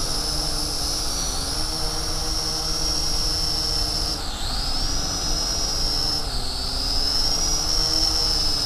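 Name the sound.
Lishitoys L6055 quadcopter drone flying under throttle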